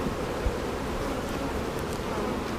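Honeybees buzzing at a hive during a queen check, a dense continuous hum of many bees, close and steady without pause.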